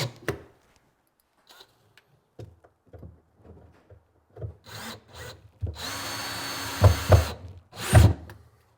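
A power drill drives 50mm screws into the side battens inside a wooden barn owl nest box: several short whirring bursts, then a longer sustained run, close and fairly loud.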